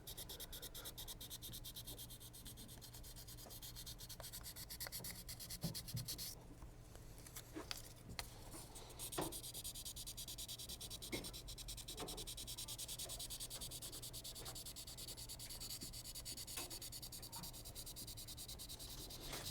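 Scuff sanding runs over the back of a guitar neck in steady back-and-forth strokes, a continuous close rasping rub with no talking.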